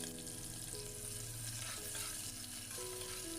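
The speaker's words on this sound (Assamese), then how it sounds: "পিয়াজখিনি অকণমান ভাজি লম।" Onions fry quietly in a pan with a soft, continuous sizzle and a faint hiss in the background, with no talking.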